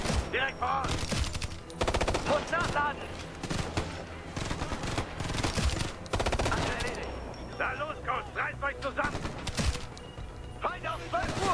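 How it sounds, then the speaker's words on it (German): Sustained gunfire from four enemies in Ghost Recon Future Soldier, dense bursts of rapid automatic shots and scattered single cracks, loud and close, running nearly the whole time with brief gaps between volleys. "du hast da vier Leute und sie ballern alle auf dich"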